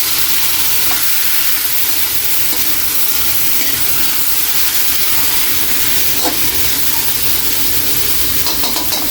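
Chicken pieces fry for pork and chicken adobo in a pan with a loud, constant sizzling hiss, close up, with faint stirring clicks and no voices.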